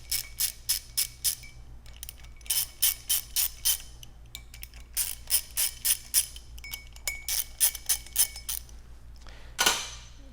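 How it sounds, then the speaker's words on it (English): Ratchet with a short extension working bolts loose from the lower diaphragm case of a Model 461-57S regulator, a series of quick clicking bursts in steady rhythm, close and clear with no talk, ending in a brief louder clatter. "Next thing you do is remove your bolts from your lower diaphragm case. You will need an extension."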